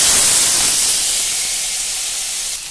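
Medium-small diced potatoes drop into hot oil already tempered with cumin and green chillies, setting off a loud, broad hissing sizzle that starts strong and gradually softens, with no talking.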